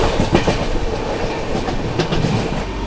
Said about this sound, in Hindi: क्या ओवरटेक मारा है भाई अपनी हावड़ा राजधानी ने पारसनाथ एक्सप्रेस को